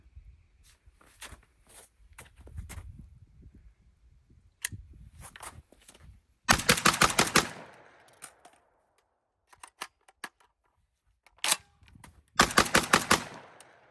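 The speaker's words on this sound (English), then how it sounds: "It's the JTS M12AR, 12 gauge AR-10 basically. Let's go and do a mag dump with this." A JTS M12AR 12-gauge shotgun is emptied in two rapid bursts of about eight loud, close blasts each. Between the bursts there are handling clicks and quiet shuffling outdoors.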